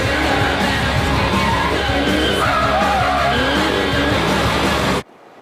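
A car's tyres squeal and skid loudly during tyre warm-up before a braking test, with the engine revving under wavering screeches for about five seconds before cutting off abruptly.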